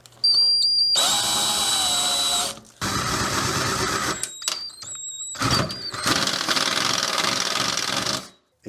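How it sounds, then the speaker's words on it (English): A power drill with a 5/8 inch bit whines loudly in several bursts, boring through a metal entry door for a peephole, with brief pauses and rattling between runs. "I got a 5/8 inch drill bit. I'm going to drill this hole."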